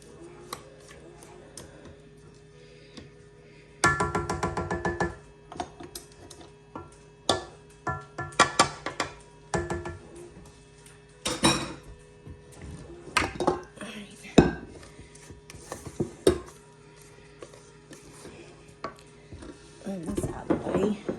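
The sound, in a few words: scraping batter out of a bowl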